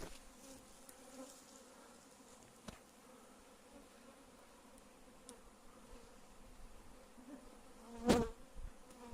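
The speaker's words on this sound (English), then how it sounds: "the bees around the entrance now, they start fanning their wings" Bees fanning their wings at a hive entrance hum faintly and steadily, a low continuous buzz with one brief louder burst near the end.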